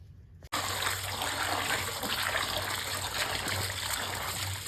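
Water pouring and trickling steadily over raw rice being washed for pongal, a close, continuous gushing splash that starts abruptly after a brief quiet moment and carries on alone.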